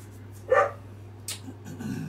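A dog barks indoors during a tabletop game: one sharp, short bark stands out over a low steady hum, followed by a softer second yelp and quiet shuffling.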